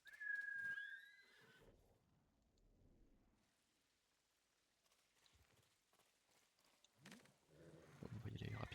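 A horse whinnies with a bright, rising call at the start in the video game Ghost of Tsushima, followed by quiet hoof steps and faint rustling, with louder movement noises near the end.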